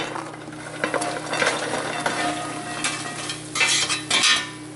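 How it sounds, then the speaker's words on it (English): Hot pecans fresh from the oven sizzle as they are stirred and coated with melted butter, brown sugar, cayenne and cinnamon, a close, crackling sizzle with utensil scrapes and clinks against the bowl. "They're going to sizzle because they're hot."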